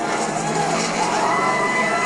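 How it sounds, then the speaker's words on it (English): Race fans on their feet in the grandstands at Watkins Glen, a steady loud wash of crowd cheering and shouting with no breaks. "fans in the grandstands over here, on their feet cheering"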